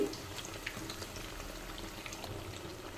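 Onion-stuffed chilli bajji deep frying in hot oil over a medium-high flame make a soft, continuous bubbling that stays faint and even the whole time.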